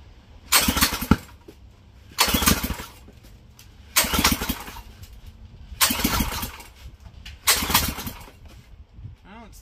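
A Predator 212 engine fitted to a John Deere 110 lawn tractor, primed with starter fluid, is cranked in five separate bursts, each a loud rough churning lasting about a second and separated by quiet pauses.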